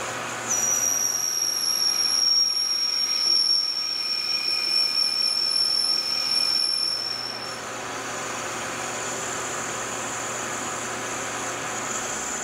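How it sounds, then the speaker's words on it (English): A lathe parting tool rubs on a metal workpiece for a solid rocket motor igniter, giving off a thin, steady high squeal for about seven seconds over the machine's hum, then falling away to the hum alone. "A little bit of rubbing going on there."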